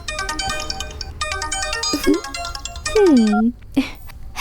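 Mobile phone ringtone playing a repeated electronic melody of bright chiming notes, close and loud, interrupted by brief voice sounds.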